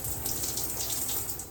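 Water running steadily from a tap or shower during washing with Dove cherry and chia milk body wash, a close continuous hissing splash without pause.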